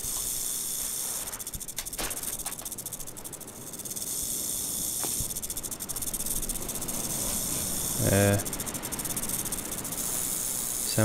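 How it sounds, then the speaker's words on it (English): Snake hissing in the Stranded Deep survival game, a steady broadband hiss running through the whole stretch with a few brief clicks and a short louder burst near the end, no talk over it. "Where's the snake? Just heard it."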